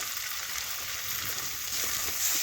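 Chopped tomato with salt and turmeric frying in a pan with onion for a goat tripe curry, giving a steady, even sizzle close by with no voices.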